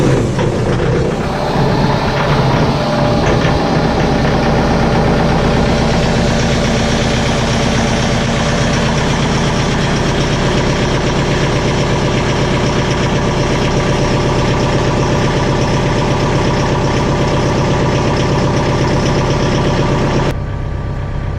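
A diesel tractor with a glow plug cranks over and settles into a steady, loud, rumbling idle that chugs evenly and close by for the rest of the clip.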